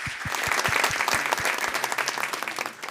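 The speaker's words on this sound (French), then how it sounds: "Je pense qu'on peut l'applaudir aussi." An audience applauds a prize winner at the French Tech Tremplin 2023-2024 laureates announcement. The clapping is dense and steady throughout, with a few close, sharp claps standing out near the start.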